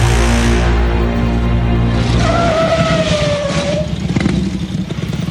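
A motorcycle engine revs hard as the bike pulls up, rising and falling with a whine and rough mechanical clatter, loud and close, then settling into a rattling idle.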